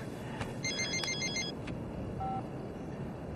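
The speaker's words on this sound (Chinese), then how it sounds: "哎，你的电话 啊。" A telephone rings in an indoor drama scene with a short electronic bell-like ring pattern, fairly faint against a steady background hiss, with no talk over it.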